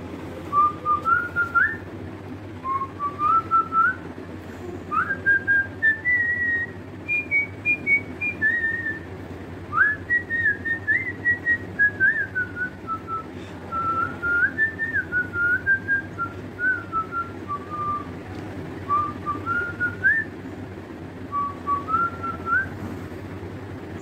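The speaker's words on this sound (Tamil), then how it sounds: "விசில் அடிக்கிறேன்" A man whistles a song tune solo, a melodic phrase of short connected notes gliding up and down in a steady rhythm, close and clear over a low background hum, with no talking.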